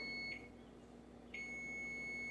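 A kitchen oven timer gives steady, thin, high-pitched electronic beeps, one brief pause between tones, against a low steady hum.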